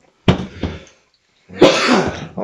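A man coughs in two sharp, close bursts, pauses in silence, then lets out a longer, rougher cough or hacking fit, loud and alone with no talk.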